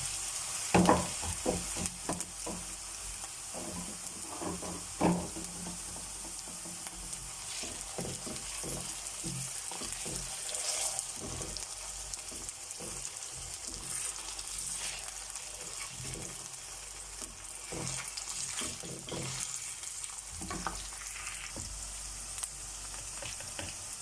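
Potatoes dropped into a pan of lightly browned onions, frying with a soft steady sizzle and scattered stirring clatters and scrapes in a home kitchen, fairly quiet with no talk.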